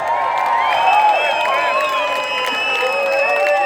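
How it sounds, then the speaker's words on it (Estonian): Large outdoor crowd at a Midsummer bonfire concert in Estonia, cheering and whooping with a steady wash of applause, dense and sustained throughout at close range. "Suur aplaus kõikidele Jaani tulelistele."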